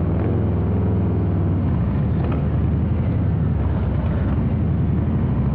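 A 2023 Harley-Davidson Breakout with a 117ci engine and Rinehart exhaust rides along, its steady, loud low rumble continuous throughout with wind noise layered over it.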